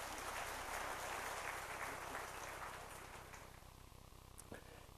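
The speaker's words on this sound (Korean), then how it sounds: "뜨거운 박수로 환영하겠습니다" A church congregation applauds with dense, steady clapping that gradually thins out and fades, with a faint voice near the end.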